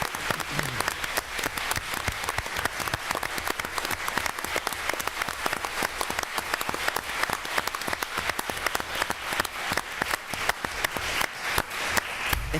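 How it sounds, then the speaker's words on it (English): Sustained audience applause in a Maine Supreme Judicial Court courtroom, dense steady clapping from many hands continuing at an even level throughout with no talk. "everybody else is going to give them a round of applause"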